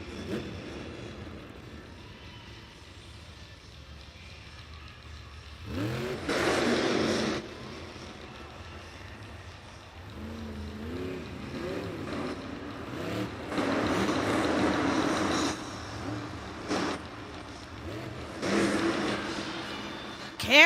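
The Classroom Crusher monster truck at a stadium event in Arlington, Texas, revs its engine on the ramp, with several loud surges rising and falling over a low idle and crowd ambience.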